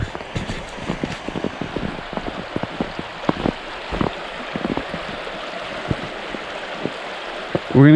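A river rushes steadily through a snowy county park during a snowstorm, a continuous near wash of flowing water broken by crunching footsteps and small knocks.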